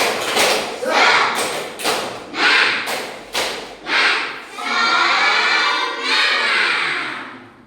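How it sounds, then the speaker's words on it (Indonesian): Schoolchildren in a classroom perform a rhythmic clapping chant, sharp unison claps falling in a patterned beat with shouted voices, ending in a sustained group cheer. "mari kita laksanakan tepuk semangat"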